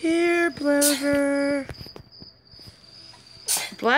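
A loud, tonal, voiced sneeze bursts out twice in close succession, followed by faint clicks and a quieter lull before another sharp burst, heard against the sounds of a Plants vs. Zombies 2 game.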